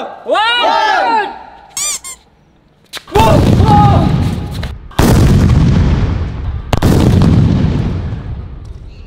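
A huge remote-triggered Diwali firecracker bomb goes off in a village with a loud booming blast, followed by two more heavy thunderous bursts with rumbling decay, after brief squeaky sounds at the start.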